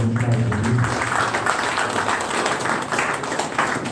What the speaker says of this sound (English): Please, a round of applause for the